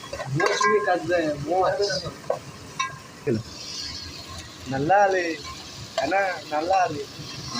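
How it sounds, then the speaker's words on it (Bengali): Food fries and is stirred in a pan with chili powder, with soft scraping and sizzling beneath a person talking throughout. "আমাদেরকে এইভাবে রান্না করে লঙ্কা গুঁড়া দিতে হয়।"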